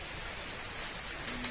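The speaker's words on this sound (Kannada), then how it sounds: "ಈ ಒಂದು ಮಳೆ ಬರ್ಲಿಕ್ಕೆ ಶುರು ಆಯಿತು" The year's first rain falls at midday under heavy cloud, a steady soft hiss of drops across the surface, even and fairly faint, with no voices.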